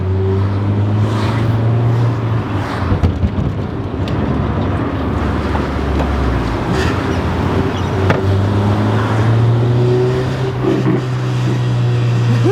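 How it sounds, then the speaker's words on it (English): A car engine drones steadily at low pitch with an intermittent metallic rattle and clatter from the exhaust riding over it, loud and close throughout. "The exhaust is rattling on something."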